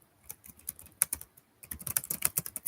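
Fingers tap away at a computer keyboard in quick, uneven bursts of close, crisp clicks, pausing briefly midway before a faster flurry of keystrokes.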